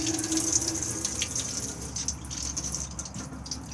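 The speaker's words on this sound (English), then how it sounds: "So if we just open a tap up" Water runs steadily from a tap inside an Elddis Xplore 422 caravan with the water pump switched on, a continuous close hiss and splash into the sink that holds at an even level throughout.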